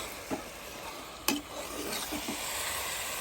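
Beef being stirred and mixed with onion and tomato in a hot pan for a Kerala kappa beef curry, a low steady sizzle broken by a few sharp spoon scrapes and knocks, heard alone.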